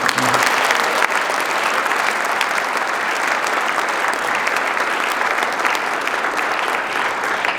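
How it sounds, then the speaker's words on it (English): Audience at a school speech day giving a sustained, loud round of applause for the swimming team, dense and steady throughout. "Please give swimming a huge round of applause"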